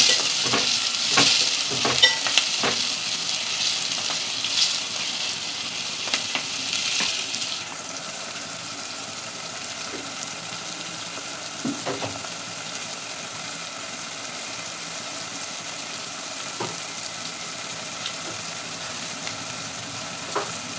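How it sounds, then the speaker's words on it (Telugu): Onions frying with salt in hot oil until browning, a steady close sizzle with bursts of stirring and spoon scrapes early on, settling into an even hiss; no one speaks. "ఆనియన్ మంచిగా బ్రౌన్ కలర్ వచ్చేంత వరకు ఫ్రై చేసుకోవాలి"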